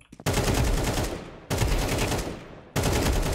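Rapid automatic gunfire in Counter-Strike 2, dense, loud bursts with two brief breaks between volleys.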